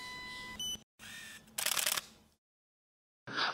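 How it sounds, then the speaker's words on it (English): A single-lens reflex camera shutter fires in a quiet room: short mechanical clicks and a brief whirring burst, then silence before another sharp click near the end. "Here is our unscripted convo after the shutter click."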